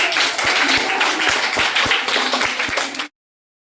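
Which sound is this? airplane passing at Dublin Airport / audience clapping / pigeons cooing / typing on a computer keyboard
audience clapping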